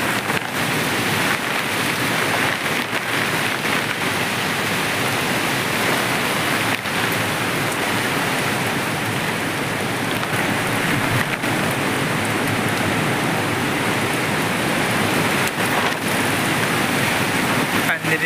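Heavy rain with wind and dust sweeping through a village, a dense steady roar of downpour lasting throughout, close and loud with no breaks.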